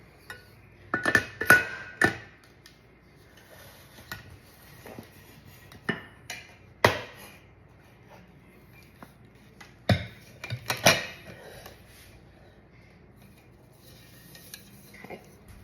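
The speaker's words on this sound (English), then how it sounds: "I am gonna take a knife and just go around the edge." A metal knife scrapes around the inside edge of a chiffon cake pan in short, scattered bursts of clinks and scrapes, fairly quiet and close, with pauses between strokes and no talking.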